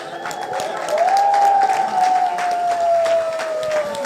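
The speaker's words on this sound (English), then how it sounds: "I want to hear a loud cheer from the audience" Conference audience at the DU-BRAINS event bursts into loud cheering and applause, a sustained roar with clapping while a bright tone rises and holds through the middle.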